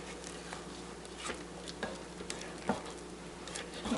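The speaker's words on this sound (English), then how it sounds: "Need to go in and stir off the sides a little bit." Sweet potato pie filling and buttermilk stirred in a bowl, with soft scraping and light clicking strokes against the sides in an irregular rhythm, quiet and close, with no voices.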